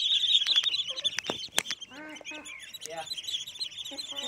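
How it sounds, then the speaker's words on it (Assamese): Eight-day-old ducklings peep and chirp in a busy, continuous chorus near at hand, mixed with deeper calls from other poultry on a small farm, while a person speaks. "ইয়াত মোৰ হাঁহ পোৱালিখিনি আছে"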